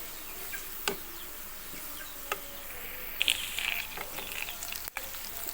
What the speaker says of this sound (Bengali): তা আমি হালকা করে ভেজে নেব যতক্ষণ না পর্যন্ত ব্রাউন কালার হচ্ছে